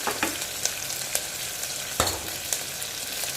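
Curry leaves hit a pan of sautéing onions and green chillies, giving a steady close sizzle of frying broken by a few sharp spatula scrapes and taps, with no voices.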